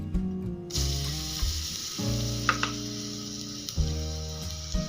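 Garlic for garlic chutney frying in a pan gives a steady, close sizzling hiss, with a few stirring scrapes and a tonal musical background underneath.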